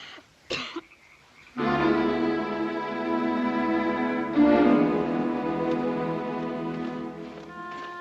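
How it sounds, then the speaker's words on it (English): One short, sharp cough, then a sustained droning tone takes over for the rest. "Can't you control that miserable coughing?"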